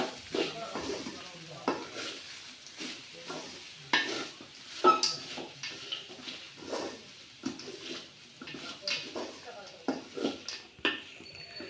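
Cooked rice stirred into a carrot rice mixture in a pan: repeated rhythmic spatula scrapes and light clatter over a low sizzle, close by, with a voice now and then.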